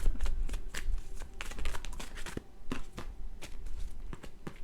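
A deck of tarot cards is shuffled by hand again and again, with rapid papery riffles and soft slaps in an irregular stream, close and fairly quiet.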